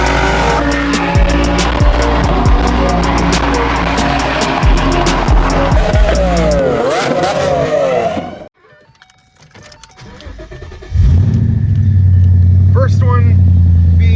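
A loud Nissan Z engine with its resonators removed roars and revs with tire squeal, drops out to near silence briefly, then returns as a deep, heavy idle rumble.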